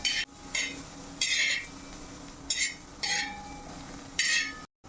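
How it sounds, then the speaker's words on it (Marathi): Onions roasting on a tawa for onion chutney give off bursts of sizzling and scraping, with several loud stirring pulses separated by quieter crackle in a kitchen. "हे कांदे काळे डाग पडतपर्यंत याला भाजून घ्यायचं"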